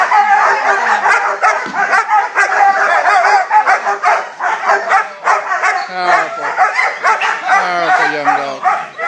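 A powerful young protection dog barks repeatedly and close by, a busy stream of sharp barks and yips with some whimpering mixed in.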